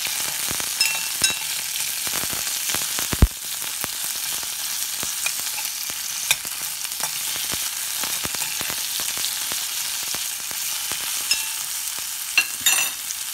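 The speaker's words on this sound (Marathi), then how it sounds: "चिरलेला कच्चा टमॅटो टाकायचा आहे. तो जरा तेलात करतो मी," Chopped raw tomato frying in hot oil for chutney, a steady close sizzle with bright crackling, occasional stirring scrapes and clinks of a spoon against the pan.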